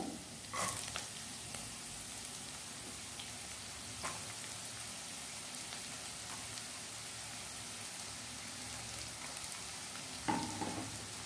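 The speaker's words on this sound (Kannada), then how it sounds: "ಸ್ವಲ್ಪ ಈರುಳ್ಳಿ ಫ್ರೈ ಆಗಿದೆ" Chopped onion frying in a pan for chicken fried rice at home, a quiet, steady sizzle hissing throughout, with a few brief clinks or stirring knocks near the start, middle and end.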